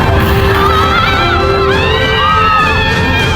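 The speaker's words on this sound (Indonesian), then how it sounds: "Di wahana perahu bajak laut yang membuat mereka berteriak kegirangan." Crowd of riders screaming and cheering with joy on a pirate ship ride at Disneyland, a dense wash of loud, overlapping shrieks and whoops that rise and fall together, steady throughout.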